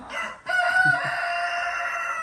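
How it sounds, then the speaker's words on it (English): A rooster crows once, loud and drawn out, the call holding steady before fading, with faint clucking beneath. "And right on cue is the rooster."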